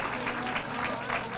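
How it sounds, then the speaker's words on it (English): Graduation-event audience at a scholarship ceremony fills the room with dense, steady clapping, a continuous loud wash of applause with no pause. "I hear the claps"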